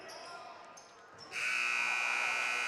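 A buzzer sounds loud and sustained to end the half of a JV girls' and boys' basketball game in a gym, following a short stretch of quieter court noise.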